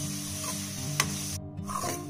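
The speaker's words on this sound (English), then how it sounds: "After adding the onions, I'm going to mix it really well." Onions and cumin seeds frying in butter for paneer do pyaza, a steady close sizzle with stirring scrapes through the pan.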